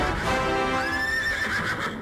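A horse whinnies in one long, high neigh that rises and wavers over about two seconds, loud and close, with no voices.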